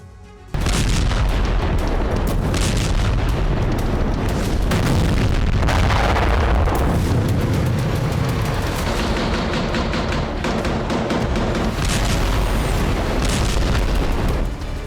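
Artillery shelling explodes over Gaza in heavy, continuous booms and deep rumbles, loud and close, with barely a pause across the whole stretch.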